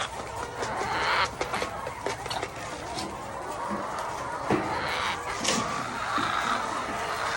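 Backyard laying hens cluck softly and intermittently at a moderate distance, a steady scatter of short calls over a faint ambient background with no talk.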